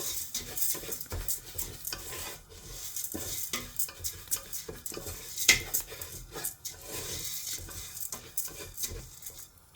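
Lentils being mixed into a thick spice paste in a pot for coconut daal, with a steady run of scraping, stirring strokes and a few sharp utensil knocks against the pot, close and fairly quiet, with no voices.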